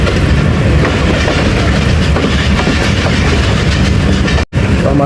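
The 13 Up Awam Express moves onto the loop line at Gujranwala Cantt station, heard from aboard. A loud, continuous rumble carries rhythmic clickety-clack wheel clatter, with a brief dropout near the end.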